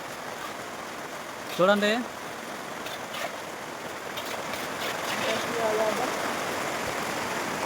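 Heavy rain falling steadily on a building construction site, a constant dense hiss with a brief voice speaking over it early on.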